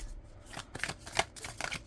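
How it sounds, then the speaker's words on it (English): A tarot card deck is shuffled up close, making a quick series of soft papery flicks and riffles, uneven in rhythm, with no talk. "I haven't used this deck in a while, but it's shuffling in"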